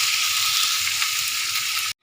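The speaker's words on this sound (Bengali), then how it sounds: "এবার পেঁয়াজটা ভাজা হোক একটু।" Sliced onions sizzle in oil in a pan, browned until reddish for a chicken curry. The frying is a steady, close hiss that stops abruptly at the end.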